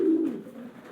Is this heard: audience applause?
no